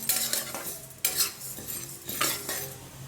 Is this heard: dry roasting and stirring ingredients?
yes